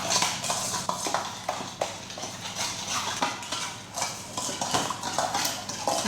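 A spoon stirs granola bar ingredients in a bowl, producing repeated scraping clinks and knocks in an uneven rhythm, close and fairly loud.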